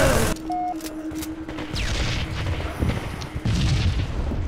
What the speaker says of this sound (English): Wow, a random grenade.